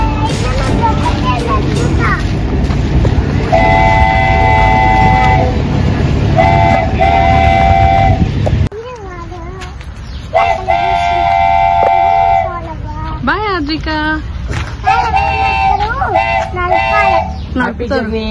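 A small toy train at Mayuri Park in Mahaboobnagar rolls along nearby with repeated bright horn toots and a steady rumble, while people talk over it.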